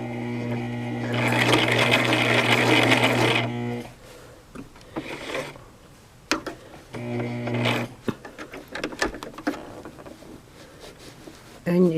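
A Brother LX 3817 sewing machine stitches a vest placket and dog harness in a kitchen, with two bursts of rapid mechanical whirring separated by clicks and handling noises.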